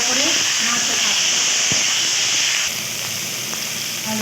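Potatoes with cumin and tomato fry in hot oil with a steady hissing sizzle, close up, occasional clicks of stirring, and a faint voice in the background.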